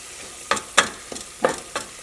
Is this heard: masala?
yes